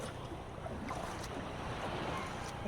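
A boat motor runs steadily beneath wind and splashing water, a broad continuous rumble with no voices.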